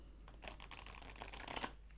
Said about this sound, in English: I'm just going to do a bit of a deeper shuffle